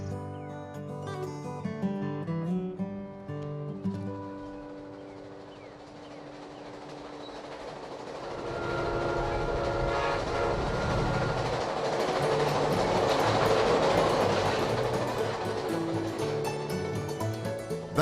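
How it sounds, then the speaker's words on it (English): A passenger train running east along Florida's Panhandle, its rolling rumble and rail clatter swelling to a loud steady roar in the second half, with tonal music over the opening. "the train continues east, traversing the length of Florida's Panhandle"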